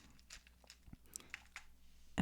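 A Tic Tac mint is crunched and chewed close up, with scattered soft crunches and clicks building over a couple of seconds, ending in one sharper, louder crunch, with no talking.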